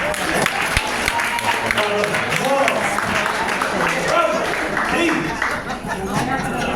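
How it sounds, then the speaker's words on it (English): Scattered audience applause during a lecture, clapping mixed with crowd chatter and a voice speaking over it, moderately loud and continuous. "Give yourself a round of applause"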